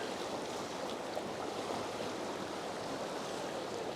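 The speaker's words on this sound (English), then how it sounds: "we just have a churning eddy on the bank" Churning eddy water along a soft stream bank during snowmelt runoff, a steady broadband rush of moving water that holds even and continuous throughout, close to the microphone, with no voices.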